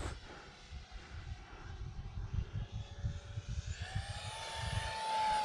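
A Fun Arrows RC T33 model jet, powered by a 4S 1300 battery, flies past with a steady whining motor tone that rises in pitch toward the end, over gusty wind rumble, fairly near.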